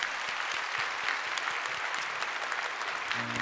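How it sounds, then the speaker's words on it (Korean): A church congregation claps steadily for three newly baptized members, dense, even applause that continues without a break. "우리 인사하실 때 우리 박수로 축복해 주시기 바랍니다"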